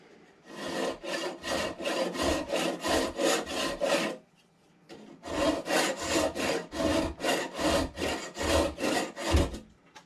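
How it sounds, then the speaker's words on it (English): Repeated back-and-forth rasping strokes of a tool shaving wood on a new handle for a vintage Swedish axe, two steady bursts of about ten even strokes each, close and loud, separated by a short pause. "Okay, so just a little more shaving."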